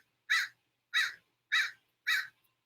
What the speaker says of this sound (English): I love that nice bird that's just squawking